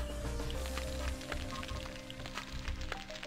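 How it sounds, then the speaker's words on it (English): A video game gun in a Doom mod makes a crackling, sizzling hiss like food frying in a pan, steady and close, with a low rumble underneath and a few faint electronic tones. "Are we frying bacon in this gun?"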